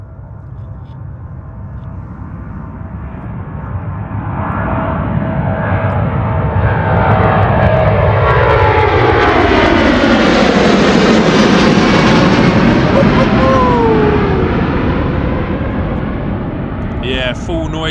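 A British Airways Boeing 777 taking off at full power from Gatwick, a deep jet roar that swells over several seconds to a loud peak and then slowly fades, with voices heard over it.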